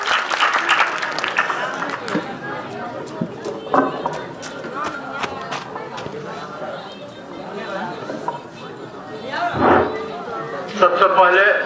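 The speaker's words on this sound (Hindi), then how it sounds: "कृपया जोरदार ताली से स्वागत कर दियो।" An audience at a political gathering in Nepal applauds a welcomed guest, with loud clapping at the start and bursts later, mixed with crowd chatter and talk over the sound system.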